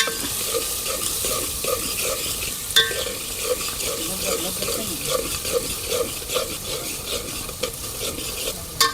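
Onion frying in a pan for a brinjal dish is stirred, a continuous soft sizzle with a regular scraping rhythm of the spoon, close by.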